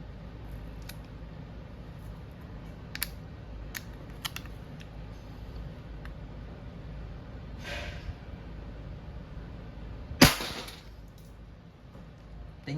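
A Crosman 2240 bolt-action CO2 airgun pistol fires a single sharp, loud shot, preceded by a few faint mechanical clicks against a steady room background.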